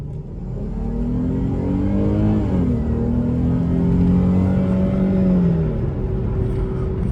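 A Chrysler 300 or Dodge Charger in rush hour traffic, its engine revving hard toward redline in a loud, rising, sustained drone that holds high before easing off, heard from inside the car.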